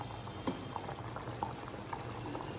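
Masala rice cooking in a covered pot on a gas flame, with water at a low boil that gives soft, scattered bubbling pops and gentle simmering, close and fairly quiet, with no voices.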